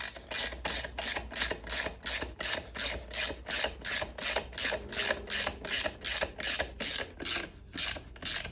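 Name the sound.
torque wrench ratcheting while tightening a bolt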